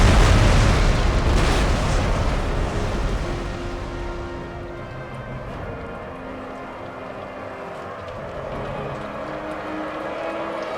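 Naval cannon fire from sailing warships in Empire Total War, a heavy booming broadside that opens loud and rolls into a long, decaying rumble with low tonal hum beneath, no voices.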